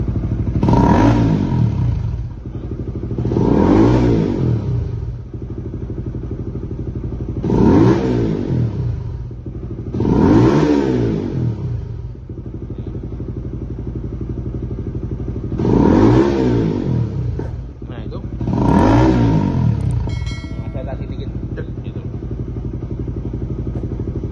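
A motorcycle engine fitted with an Aracer RC Mini X ECU idles steadily and is revved hard again and again, six loud surges that fall back each time, with a few sharp backfire pops on closing the throttle near the end.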